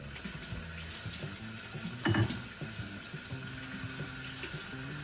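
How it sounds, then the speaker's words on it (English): Water runs steadily from a kitchen tap as hands are washed under it, a continuous close hiss and splash with a brief louder burst of splashing midway and faint clinks of the sink in the background. "I'm just washing my hands first, of course."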